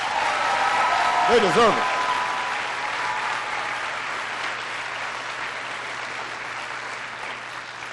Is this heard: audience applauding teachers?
yes